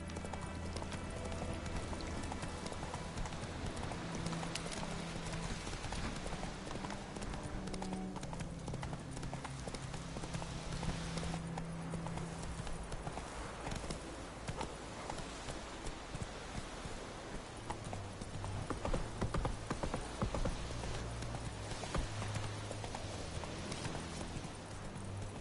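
A horse gallops in The Witcher video game, its hooves beating a fast, steady clip-clop throughout, up close, layered over music and ambient game sound.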